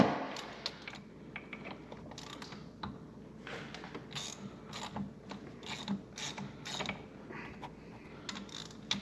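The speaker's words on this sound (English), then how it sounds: "So cracking all the head bolts loose, getting them all done" A ratchet wrench cracks loose the head bolts on a Polaris XC 700 snowmobile engine during a top-end rebuild, giving repeated close clicking bursts and sharp metallic snaps with brief pauses between strokes.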